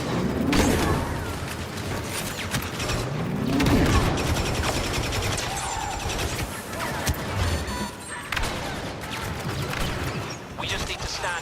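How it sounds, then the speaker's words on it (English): Grenade explosions and gunfire in a Star Wars video game form dense, overlapping bursts, booms and crashes throughout, under frequent voices talking. "Grenade out!"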